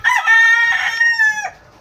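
A single Albany rooster crows loud and close, one sustained cock-a-doodle-doo lasting over a second before trailing off.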